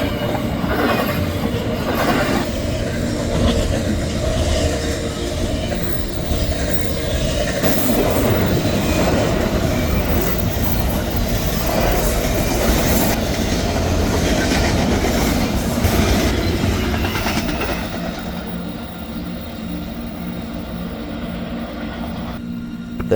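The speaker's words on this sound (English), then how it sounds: "I was very excited to see a DC GEVO leader and a Tier 4 GEVO trailing" A CSX intermodal freight train led by GE GEVO locomotives rolls past close by, a loud, continuous rumble of cars and wheels with rhythmic clatter that eases slightly toward the end.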